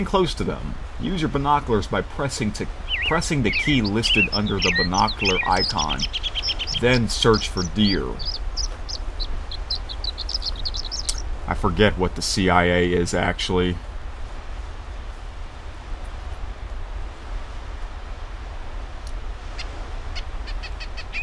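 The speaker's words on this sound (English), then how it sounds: "Oh, you hear the birds chirping?" Birds chirp in the Hunting Unlimited hunting game, with tweets and calls scattered among game narration and frequent talking from a player, ending in a quieter stretch of ambient outdoor sound.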